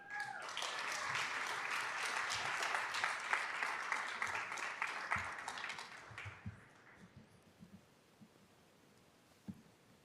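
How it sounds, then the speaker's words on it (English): A crowd at a school board meeting applauds steadily for several seconds, dense clapping that thins out and fades to scattered claps and quiet near the end. "One more round of applause for all of these amazing artists."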